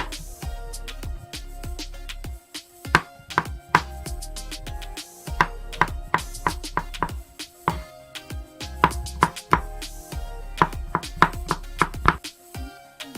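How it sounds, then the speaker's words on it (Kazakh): Rapid, sharp knife chops through carrots on a cutting board in quick bursts and runs, close and fairly loud, with brief pauses between rounds. "Сабизди да майда кылып турап алабыз."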